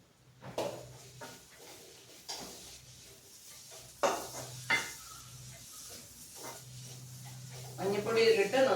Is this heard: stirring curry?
yes